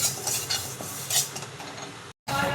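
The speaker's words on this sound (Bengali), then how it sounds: "মুগ ডালটাকে প্রথমে আমি শুকনো খোলায় ভেজে নিচ্ছি একটু হালকা করে।" Moong dal dry-roasting in a dry pan over very low gas, with dry rattling and scraping as a spatula stirs the lentils, close and clear with a brief cut near the end.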